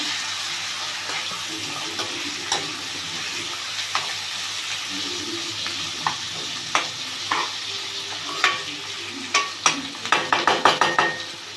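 Chicken livers sizzle and fry in a pan for a liver curry, with steady frying hiss and repeated stirring scrapes that grow louder and more frequent toward the end; no one speaks.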